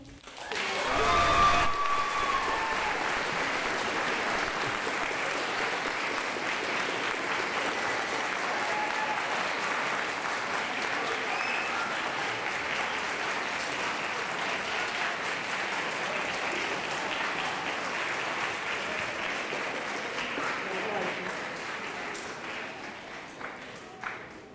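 Sustained audience applause after a school spelling bee championship, a dense, even clatter of many hands continuing for over twenty seconds before tapering slightly at the end.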